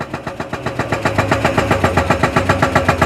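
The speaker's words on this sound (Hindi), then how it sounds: "नीचे से ट्रक आ रहा है, डैम्पर जो है।" A loaded dumper truck carrying cement passes close by on a road, its diesel engine throbbing loud and steady in a fast regular pulse as it labors past.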